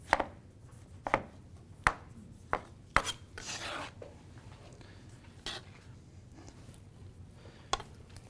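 A knife chops through an onion on a cutting board while crab guacamole is being made, with sharp, distinct thunks spaced unevenly about once a second, a softer scraping rasp in between, and no talk.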